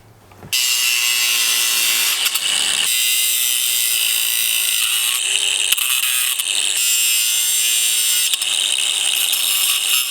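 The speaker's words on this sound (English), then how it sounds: "let's grind that down a little bit" A power grinder working on a bison fencing panel, a loud continuous high-pitched metal grinding whine starting abruptly after a brief quiet moment and holding steady with slight variations in pitch.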